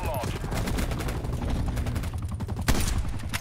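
Rapid bursts of gunfire rattle continuously in Call of Duty: Black Ops Cold War, dense automatic shots with one louder blast near the end.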